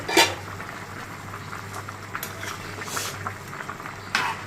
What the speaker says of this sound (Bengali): তরকারিতে বলক এসে গেছে